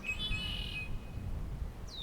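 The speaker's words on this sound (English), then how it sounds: "You can count on red-winged blackbirds making a pleasant ruckus here every spring." Bright, whistled red-winged blackbird calls ring out by a pond over a steady low rumble of wind or distant traffic, with a sharp rising chirp near the end.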